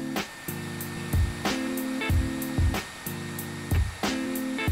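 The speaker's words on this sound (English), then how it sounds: "Once done, use the hairdryer on the top until the material softens up." A hair dryer heating a OnePlus 7T phone skin blows with a steady whining hum, interrupted every second or so by brief louder bursts and clunks as it is moved.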